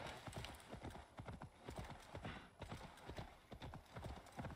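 Horse hooves clip-clop at a steady trot while riding in the video game Assassin's Creed Valhalla, a quiet, even rhythm of muffled thuds.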